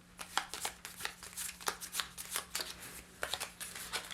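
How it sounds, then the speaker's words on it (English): A deck of game cards for Terraforming Mars Ares Expedition is shuffled by hand at close range, with a quick series of riffling bursts and soft slaps repeating unevenly over a low steady hum. "I'm going to give this as good a shuffle as I can."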